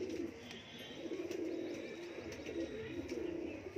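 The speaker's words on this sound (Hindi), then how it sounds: "बिल्कुल एकदम खड़े हुए कबूतर।" Cooing from a white-tipped, upright-standing teddy pigeon pair, a male and female kept as show birds; steady low coos repeat through the whole stretch with faint chirps above, no talking.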